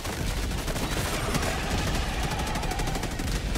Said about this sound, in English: How my auto cannon fires.